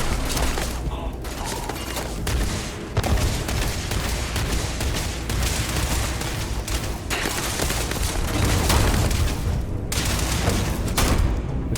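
Combat in Starfield with grenade blasts, a continuous dense wash of explosions, gunfire and rumbling debris over nearly twelve seconds, loud and busy with a sharper surge a few seconds in and no clear voices.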